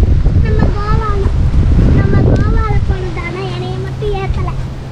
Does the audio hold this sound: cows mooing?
no